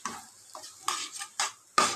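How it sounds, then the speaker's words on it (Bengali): Mashed potatoes being stir-fried in oil in a wok over high heat: five scraping strokes of a spatula against the pan, close and crisp over a light sizzle, no speech. "তেলের সাথে ভালো করে এটাকে গ্যাসটাকে হাই করে দিয়েছি দিয়ে এটাকে ভালো করে কষাবো"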